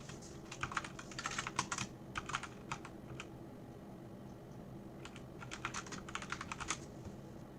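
Quick keystrokes on a computer keyboard in two bursts separated by a short pause, close and fairly quiet.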